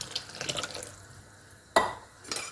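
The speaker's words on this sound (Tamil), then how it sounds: "கிரேவி ரொம்ப திக்காக இருக்குது இன்னும் தண்ணி ஊற்றிக்கலாம்" Water poured into a thick paneer masala gravy in a pan, heard as a soft splashing pour with brief louder splashes near the end, close and without talk.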